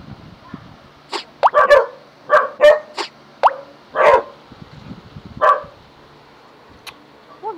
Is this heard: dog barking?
yes